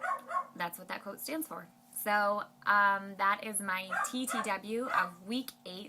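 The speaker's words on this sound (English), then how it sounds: "I'm really sorry about the dogs" Dogs bark and yip repeatedly in the background of an indoor recording while a person talks continuously over them.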